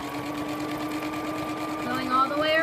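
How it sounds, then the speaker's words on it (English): A sewing machine straight-stitches fleece for a cage liner, giving a steady, even mechanical whir at close range that speeds up slightly near the end, with a person talking over it. "I'm just going in with the same straight stitch that I was going in with before."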